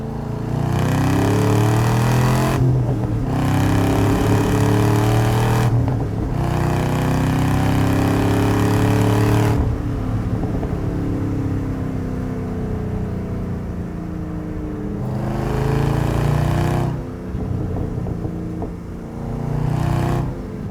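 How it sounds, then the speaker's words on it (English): A loud, deep 580 hp Camaro ZL1 engine rumble with an open, unmuffled exhaust tone from a muffler delete, rising and falling with throttle through several surges; no talking. "I can't get over what just a muffler delete will do."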